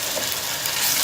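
Salt, turmeric, crushed dried coriander and cumin fry in a hot pan for an okra and green chili dish, heard as a brief, loud, steady sizzle with light stirring and no talk.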